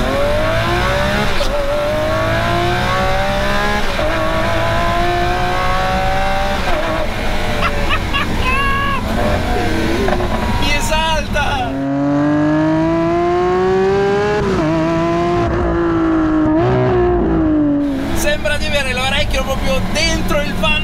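A Lamborghini Aventador Ultimae's V12 engine rising and falling in pitch as it revs and pulls, heard loud from inside the car with the rear glass lowered, with someone talking over it.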